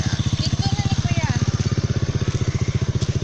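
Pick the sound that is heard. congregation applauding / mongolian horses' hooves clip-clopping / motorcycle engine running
motorcycle engine running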